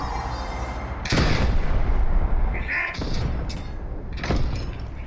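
Tank cannon fire and impacts in the War Thunder Edge mobile game, with a heavy booming shot followed by rumbling blasts and further thuds, loud and close, with no talking.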